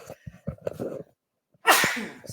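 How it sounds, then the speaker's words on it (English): One sharp, loud sneeze bursts out close to the mic right after a few words of speech and a brief pause. "Had to sneeze there."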